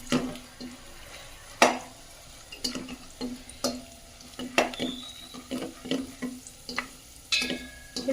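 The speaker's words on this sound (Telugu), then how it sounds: "ఇప్పుడు ఇదే నెయ్యిలో కిస్మిస్, అలానే గుమ్మడి గింజలు వేసుకొని కొంచెం ఫ్రై చేసుకోవాలండి." Raisins and pumpkin seeds fry in ghee for semiya payasam, a soft sizzle broken by sharp spoon taps and scrapes against the pan at irregular intervals.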